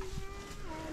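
A single low, drawn-out moo comes from cattle on a suckler beef farm, faint and somewhat distant against a soft outdoor background.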